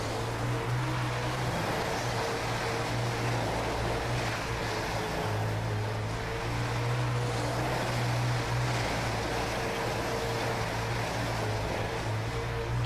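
A UMP Modified dirt race car at Kokomo Speedway in a World of Outlaws racing game, engine held at full throttle as a loud, steady, rough drone with no break for the whole stretch.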